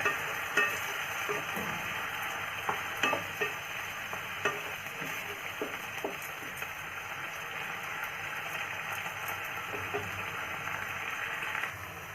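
Onion, tomato and ginger-garlic paste sizzle steadily in a pan for a pointed gourd kurma, with intermittent scraping and clinking of a stirring spoon over the continuous frying hiss.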